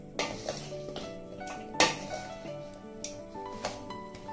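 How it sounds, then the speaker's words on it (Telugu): Mango pieces being mixed with spices for Telugu avakaya pickle, with several sharp clinks of a spoon or utensil against a steel bowl over a steady scraping rustle, close and moderately loud. "ఇవన్నీ బాగా కలిసే విధంగా ముక్కలకి పట్టే విధంగా కలపాలి."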